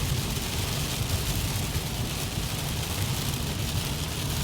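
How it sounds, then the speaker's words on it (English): Heavy rain pouring onto a car windshield and body, a dense steady hiss with a low drumming undertone, continuous and even throughout with no voices. "considering the significant amount of rain we're getting at the moment"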